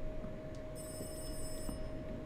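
A telephone rings in the horror game Rise of Insanity: a shrill, buzzing ring of about one second over a constant low electrical hum, fairly faint and with no talking.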